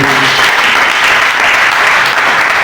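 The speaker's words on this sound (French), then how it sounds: "Applaudissons fortement pour la gloire de Dieu." A church congregation claps loudly and steadily, a continuous dense roar of many hands filling the room with no talk over it.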